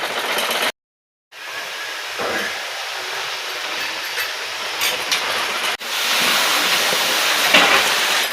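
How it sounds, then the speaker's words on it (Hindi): A sewing machine stitches a suit with a loud, continuous mechanical rattle. It cuts out briefly near the start, then resumes and runs steadily. "ये दूसरा सूट हो रहा मूसा का सिलाई"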